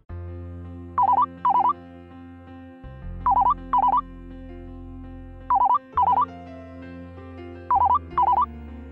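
A telephone rings in four pairs of electronic trills spaced a couple of seconds apart, loud and close over sustained background music with no talking.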